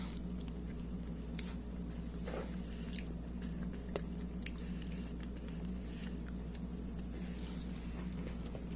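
Mac and cheese being eaten with a spoon during a taste test, with quiet, steady chewing and soft mouth squishes close to the mic over a constant low hum, and no talking.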